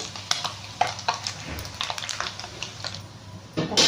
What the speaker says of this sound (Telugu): ఈ కలర్ వచ్చే వరకు మనం ఫ్రై చేసుకోవాలి.